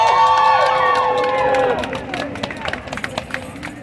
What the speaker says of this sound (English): Let's give Claudia a round of applause.